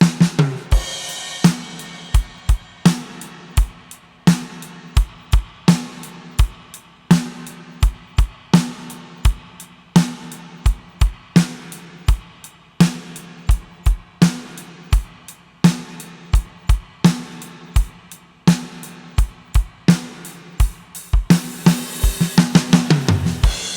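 A steady drum kit groove with regular kick, snare and hi-hat hits, mostly straight time, with a short busier fill near the end.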